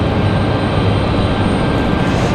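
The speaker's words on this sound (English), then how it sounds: "that JetBlue A220 on the move" A JetBlue Airbus A220 jet airliner rolls along the taxiway at Raleigh-Durham airport, its engines giving a steady, loud broadband roar that holds level for a couple of seconds with no voices over it.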